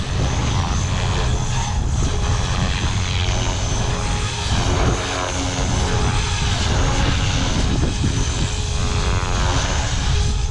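Steady loud droning whine of a Blade Fusion 360 RC helicopter's rotor and motor, tail rotor audible in the wind, continuous throughout with gusty wind rumble underneath.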